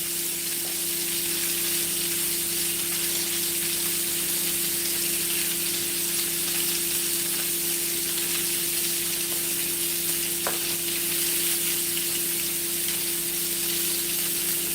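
Steak sizzles and fries in a pan with cherry tomatoes and onions, a steady, dense hiss running unbroken throughout with a faint steady hum underneath, no talking.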